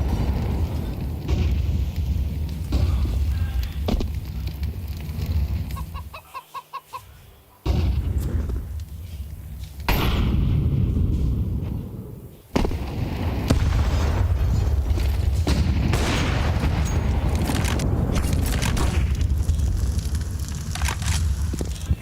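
Grenade explosions booming in a professional Counter-Strike match at IEM Cologne 2024, a series of loud, heavy blasts with rumbling debris, broken by a few brief drops into near quiet.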